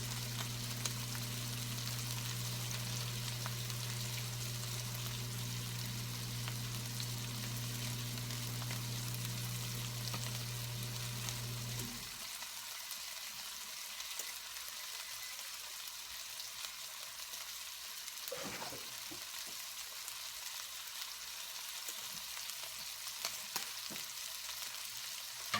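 Steak frying in a pan on a home stove, a steady broad sizzle throughout with a lower hum that drops out partway, leaving the crackle alone.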